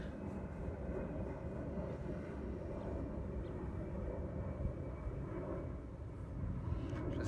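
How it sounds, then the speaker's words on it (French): A fixed-wing airplane passes overhead as a faint, steady, broad rumble with no other sounds. "Je laisse passer l'avion."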